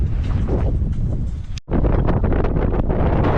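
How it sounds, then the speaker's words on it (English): Strong wind buffets the microphone with a loud, roaring rush that cuts out for a split second, then returns just as fiercely. "Oh, it's quite windy."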